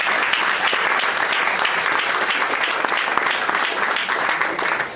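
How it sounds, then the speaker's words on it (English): Survivors and family members in a party crowd break into loud, dense applause that fills the room steadily and holds at full strength before a slight dip near the end. "to please applaud."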